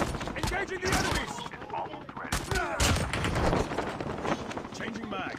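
Rapid bursts of automatic gunfire in a Call of Duty Mobile battle royale match, dense and continuous with overlapping shots and game effects filling the whole stretch.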